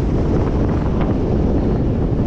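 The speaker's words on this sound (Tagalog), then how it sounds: "Grabe, isang hangin." Strong wind roars against the microphone while road cycling near Yong An Fishing Port, a constant heavy buffeting rumble, loud and unbroken throughout.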